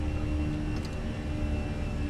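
Fenix A320 airliner engines spooled to climb thrust in Microsoft Flight Simulator, a steady, loud broadband jet roar with a constant low hum and no pauses.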